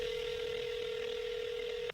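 A telephone tone sounds in a closed USDA Forest Products Laboratory office, one steady electronic tone held for about two seconds before cutting off abruptly.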